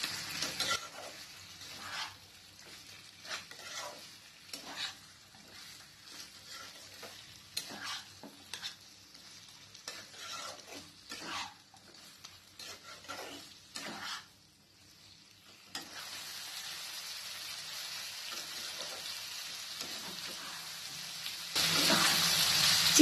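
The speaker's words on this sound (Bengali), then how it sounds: "এখানেও আমি চিকেনটাকে হালকা করে ভেজে নেব।" Chicken pieces fry in a pan for malai chicken, with a faint sizzle broken by repeated scraping stirs, settling into a steadier, louder hiss of frying toward the end, with no talking.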